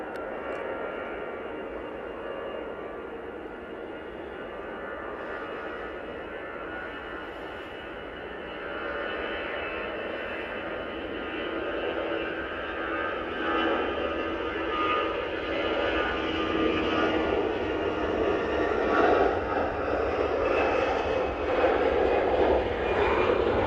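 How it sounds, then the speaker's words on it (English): Airbus A320ceo jet airliner on its take-off roll at Manchester Airport, a steady broad engine roar that slowly builds in strength over more than twenty seconds, heard from a distance with no talk. "My Orange A320 CEO now on the roll."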